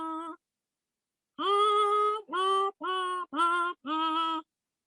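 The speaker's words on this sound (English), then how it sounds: "The other potu has this call of" A potoo calls from the Peruvian Amazon forest: one short tonal note, a pause, then a run of five drawn-out, mournful harmonic notes in close succession, clear and alone.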